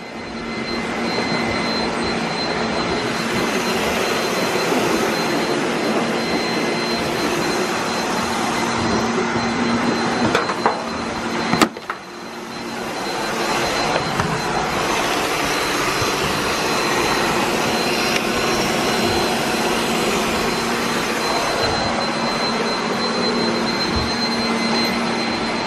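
Several robot vacuums, including a Roomba, run together in a room, making a loud, continuous whirring drone with steady motor whine and a brief bump or clatter midway, no voices.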